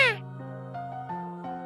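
A short, clear meow from a cat in the video game Amairo Chocolate 2 opens the moment, then gives way to soft, steady game music.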